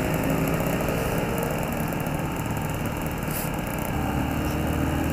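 Small motorbike engine droning steadily at close range while cruising through the city of Batu, with broadband wind and road noise throughout and no talking.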